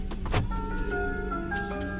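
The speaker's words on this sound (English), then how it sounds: "You also get an exit chime, and the parking brake automatically engages." A 2025 Hyundai Elantra N Line sounds its exit chime after the engine is switched off: a few soft, clear electronic tones ring out over a low cabin hum, with a brief handling noise near the start.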